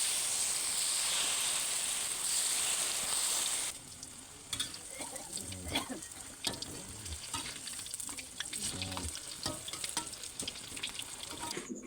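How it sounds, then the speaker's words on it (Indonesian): Tempeh fritters fry steadily in hot oil, with a constant close sizzle followed by scattered scraping and stirring noises in a home kitchen. "Genten goreng pia-pia."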